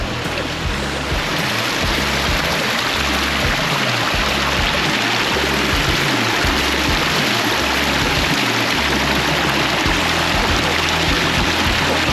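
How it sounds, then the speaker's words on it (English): Water cascades steadily down a newly built waterfall into a garden pond in Park City, Utah, a loud, close, continuous rushing wash with no talk over it. "Waterfall looks absolutely stunning."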